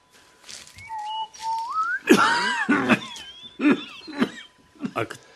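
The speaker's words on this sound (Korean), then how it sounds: "자네 기침 소리가 심상치 않아" Several harsh coughs in a rough, uneven series, mixed with voiced, whistly sounds, close to the listener.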